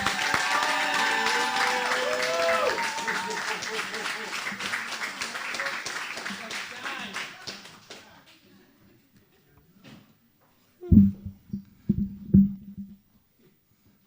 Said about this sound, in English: Please give the biggest round of applause to Gio.